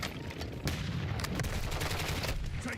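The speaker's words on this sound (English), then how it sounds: "Taking effective fire." Dense gunfire fills a Call of Duty Black Ops 6 match, with rapid automatic bursts and sharp shots crackling continuously and loudly at close range.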